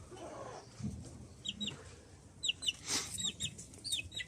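Chickens and a rooster cluck in a backyard coop, with soft low clucks and a scatter of short, high chirps close by, coming in irregular bursts.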